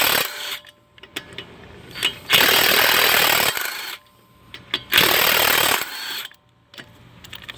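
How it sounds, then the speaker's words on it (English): A cordless impact wrench removes transmission bolts on a 2011-2016 Chevy Cruze from underneath, firing two loud, close rattling bursts of about a second each, separated by quieter pauses. "If you don't have a cordless impact, these are really handy."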